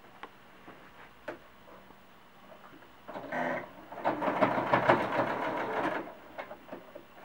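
Sewing machine stitching a cloth doll leg seam in one continuous run, a few isolated clicks first, then a short burst of whirring and a longer fast rattling stitch run before it stops.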